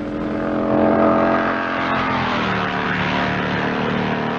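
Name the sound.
racing motorcycles braking into a corner, 1958 Isle of Man TT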